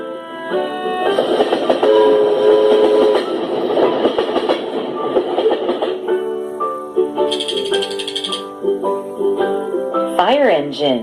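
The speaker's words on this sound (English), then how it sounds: "Train." Train sound in a children's vehicle-sounds sequence: a steady rumbling rattle with clacking rhythm runs loud throughout, with tonal accents and a musical sting near the end.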